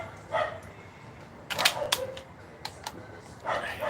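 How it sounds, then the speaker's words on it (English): A dog barks off in the distance during an outdoor livestream, its sharp yips arriving in a few scattered bursts, faint under street ambience with no speech. "that dog will be gone all night"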